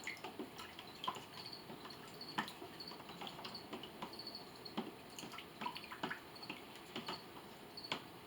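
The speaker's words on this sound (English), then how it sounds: "you're just going to mix this around until most of this honey is all dissolved in the water." Honey is stirred into warm water in a small container, giving faint, soft liquid clinks and drips in an irregular rhythm against a quiet background hiss.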